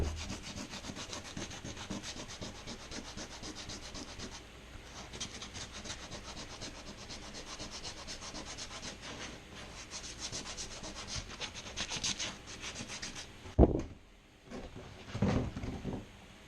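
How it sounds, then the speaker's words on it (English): A part being hand-sanded with 120-grit sandpaper to rough it up for epoxy, a steady close rasping rub in continuous back-and-forth strokes, ending in a few louder scuffs and knocks, with no talking. "I'm using some sandpaper 120 grit. Roughing it up a little bit so that epoxy can stick pretty good."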